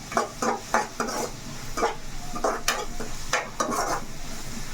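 Dried fish with cucumber frying in a pan, with repeated bursts of stirring scrapes over a steady close sizzle, no talking.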